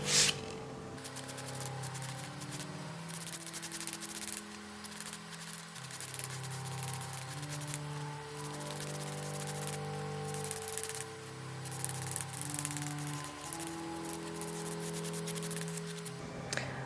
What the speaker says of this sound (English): Make sure that you're scraping it right along.